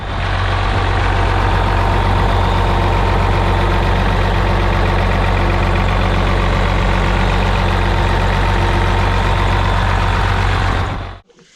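A 12 valve diesel truck engine idles loud and close with a steady low rumble and even clatter, then cuts off abruptly at the end, with no talking.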